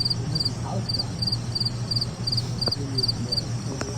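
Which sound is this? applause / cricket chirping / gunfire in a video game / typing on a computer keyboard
cricket chirping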